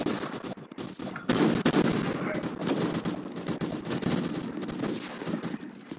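In a food-fight video game, a donut launcher fires in rapid bursts of sharp, punchy shots that stutter on and off over several seconds, with a voice talking intermittently over the firing.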